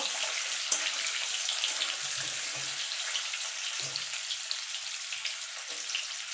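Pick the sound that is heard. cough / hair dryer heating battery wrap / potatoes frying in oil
potatoes frying in oil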